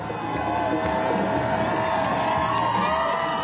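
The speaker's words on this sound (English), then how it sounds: "The roads lined with crowds cheering their return." Crowds lining the roads cheer the return of freed hostages, a dense, continuous wash of shouts, whoops and applause with voices mixed in, steady and fairly loud throughout.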